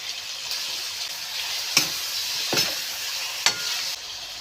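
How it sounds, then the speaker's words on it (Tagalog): Pork sizzling in hot oil while onions, tomatoes and garlic are sautéed, a constant bright frying hiss broken by a few sharp stirring clicks against the pan. "nagmamantika na yung baboy at igigisa ko na yung mga sibuyas, kamatis at saka bawang."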